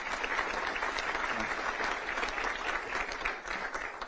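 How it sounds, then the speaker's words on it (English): A community audience gives a continuous round of dense applause heard at a moderate distance, steady throughout with no clear break. "Let's give him another round of applause, please"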